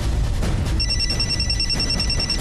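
A telephone rings with a steady electronic warble that repeats through most of the passage, set against a dense, noisy background with no speech.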